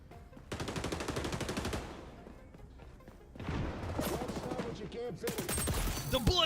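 Automatic gunfire rattles in XDefiant as bursts of rapid shots, a long steady stream, a pause, then more sustained firing mixed with sharp impacts, fairly close, with a voice talking over parts of it.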